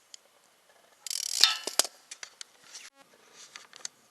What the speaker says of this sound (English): this is the ratchet with the extensions on it